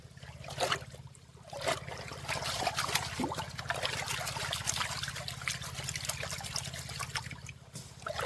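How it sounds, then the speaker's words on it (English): Water trickles and splashes as gold is panned in a small, shallow puddle dug into a gully, a steady close wet swishing with a low hum underneath throughout. "When you're panning in a small gully like this, sometimes water's hard to come by."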